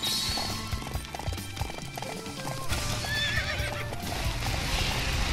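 Horse hooves clip-clop at a steady gallop with a sharp whinny, set against busy battle music and effects from the video game Samurai Warriors 5, loud and close throughout.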